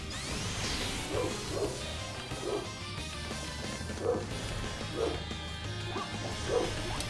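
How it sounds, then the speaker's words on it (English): Dog barking indoors during a Sonic Lost World game stream, a series of repeated woofs spaced about a second apart, moderately loud under steady game music. "So apologies for the barking."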